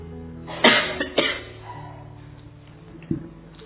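Several people cough in short bursts, two close together and another a few seconds later, in a quiet room with no talking.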